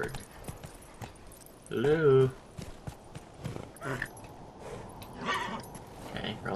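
Horse hooves clip-clopping along a winding road in The Witcher 3 on Death March difficulty, a soft irregular walking rhythm under game sounds, with a brief voiced game line and someone talking.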